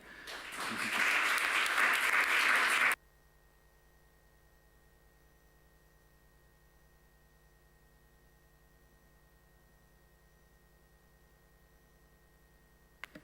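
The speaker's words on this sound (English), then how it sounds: "And now, for closing, I ask a big applause for all of our..." Brief burst of audience applause at the close of a project presentation session, dense clapping for about three seconds that cuts off abruptly into near silence with a faint steady hum.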